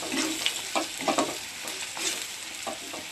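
Chili powder and masala stir-frying in a pan for egg rice, a bubbling sizzle broken by several scraping stirs of a spoon, close and fairly loud.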